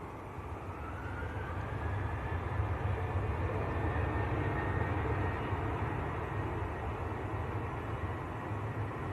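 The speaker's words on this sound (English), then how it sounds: "Maltese registered Ryanair," A Maltese-registered Ryanair airliner at Manchester Airport gives off a broad, steady jet roar that swells gently and then eases, heard from a distance with no talking.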